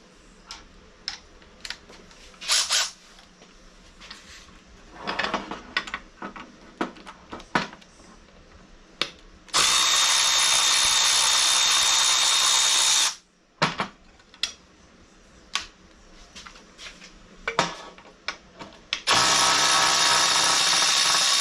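Power tool, likely an impact wrench, removing three caster mount bolts per side on a car during a jack skid install, firing in two long, loud sustained bursts between quieter clicks and handling noise.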